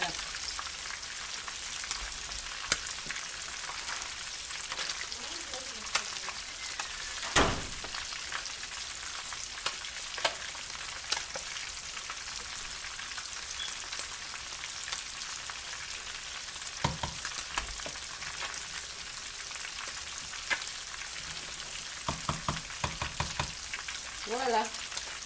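Fish frying in oil for pondu, a steady soft sizzle with occasional stirring clatters and spoon scrapes, close and continuous throughout.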